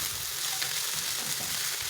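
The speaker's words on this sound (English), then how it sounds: "I'll add my garlic paste and then saute for a minute." Garlic paste sautés in a hot pan with a close, even sizzle and faint stirring scrapes, no voices over it.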